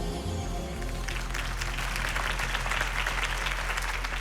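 A video game crowd applauds after Harvey Dent's campaign speech, the clapping swelling in under a fading low music bed into a dense, moderately loud patter that continues to the end.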